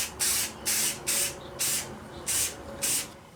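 Flat black and satin spray paint hiss out of aerosol cans in a shop as six short, even bursts at a steady rhythm, each about a quarter second long, close and fairly loud with no talking.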